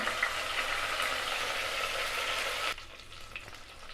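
Curry leaves sizzle hard in hot oil in a pan for a coconut milk biryani: a steady, close, crackling hiss that drops to a quieter fry near the end, with no talking.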